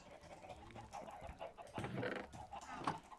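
Chickens in the Minecraft video game cluck in soft, scattered bursts at low volume, several overlapping game clucks rising and falling against a quiet background.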